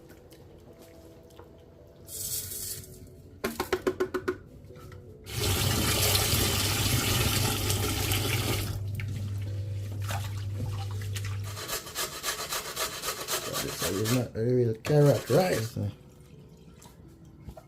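Water pours steadily from a tap into a cooking pan for about six seconds while preparing stew beef with carrot rice, between scraping kitchen sounds, with a person talking before and after.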